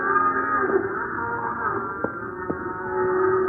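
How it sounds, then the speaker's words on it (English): Restless cattle on an open range low with drawn-out moos at a moderate distance, a sustained tonal lowing running through the clip, with a steady background hum and a couple of brief knocks. "Cows are getting restless, Hoppy."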